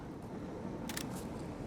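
Shutter of a Xiaomi 17 Ultra phone camera fires on a voice command, giving a brief crisp click burst near the middle over steady low background hiss.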